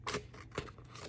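Scissors snip through a paper planner page, making two or three quick, crisp cuts close by in a quiet room.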